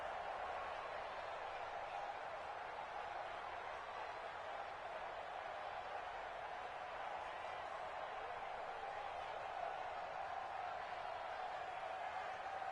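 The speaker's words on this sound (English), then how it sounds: "The crowd getting into it" Stadium crowd roar in the American football video game Madden NFL 20, a Cardinals versus Packers matchup, forming a steady, even wash of noise throughout with no distinct claps or peaks.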